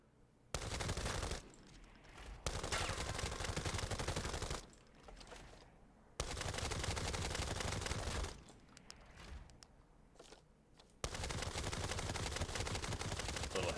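Full-auto bursts from a Desert Tech MDR bullpup rifle chambered in 5.56x45 NATO in the Arena Breakout Infinite video game: three long, loud, rapid strings of gunfire separated by short quiet gaps.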